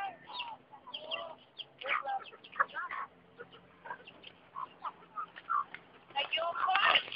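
Chickens cluck and squawk in short, irregular bursts close by, growing busier and louder toward the end, with a low steady hum underneath.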